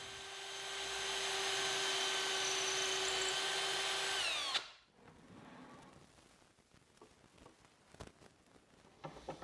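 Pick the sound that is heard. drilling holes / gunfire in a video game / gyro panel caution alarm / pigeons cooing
drilling holes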